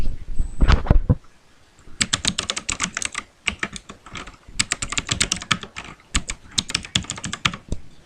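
Text typed quickly on a computer keyboard, dense rapid key clicks in long runs with brief pauses between bursts, close and clear with no talking.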